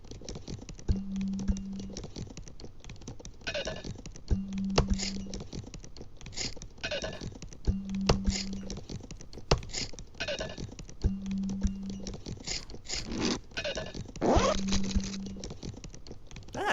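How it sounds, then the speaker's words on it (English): Improvised rhythmic piece made by tapping and scratching bag contents, a laptop, drink bottle and pencil case, with repeating clicks, taps and a low tonal note returning in a steady looping pattern. "all objects used to create this short piece were found inside of my bag, my laptop, drink bottle,"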